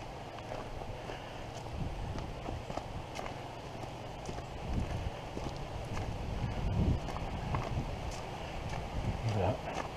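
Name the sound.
horses walking, hooves clip-clopping on a forest trail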